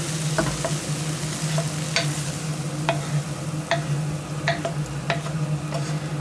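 Onion and leeks go into a hot pan for a stew, with a steady close sizzle and repeated scraping and stirring clicks from a utensil, alone without talk.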